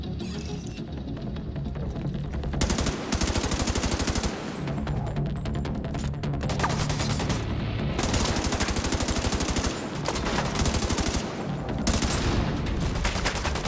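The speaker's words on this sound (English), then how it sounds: "Just shoot them as soon as they start to throw their grenades and it explodes right on them" Gunfire in The Division 2, near-continuous bursts of automatic weapons with rapid shots piling over one another, loud and dense throughout, with brief gaps and a few sharper cracks and blasts.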